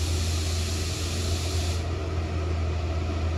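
A turbo blow-off valve on a Yamaha FXZ 360 releases air in a loud, steady broadband hiss with a low rumble beneath it, the top end dropping away partway through as the rush eases.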